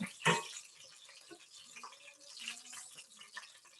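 Egg rolls frying in hot oil make a soft, steady bubbling sizzle, close and quiet, with a sharp clatter at the start.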